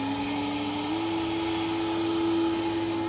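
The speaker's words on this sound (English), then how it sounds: "That's the funny little valve making a noise." A small valve on a portable 12 volt air conditioner inside a teardrop trailer makes a steady whining tone over a constant airy hum, with the pitch stepping up slightly partway through, close and continuous.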